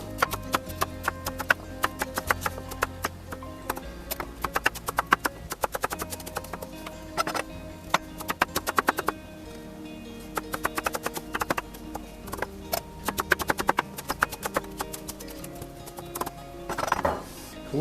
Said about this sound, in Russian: Лучок порезал.